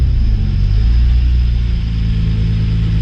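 Nissan Skyline R32 GTR with its RB26 engine rolling slowly into a garage, a loud, close, steady low engine rumble at low revs with no voices.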